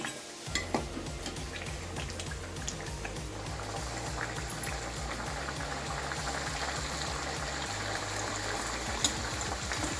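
Peas-stuffed khasta kachoris deep fry in hot oil, a loud, continuous bubbling roar with dense crackling that holds steady from start to finish.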